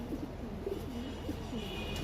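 Soft, low pigeon cooing in a loft of large pigeons, a few murmuring calls repeating under a constant background hum, fairly faint and with no talk.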